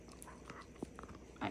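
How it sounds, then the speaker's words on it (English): A dog gnawing on a cooked steak and bone, with scattered soft bites and a sharper crunch near the end, close but faint and without clear speech. "Chew the meat, not the bone."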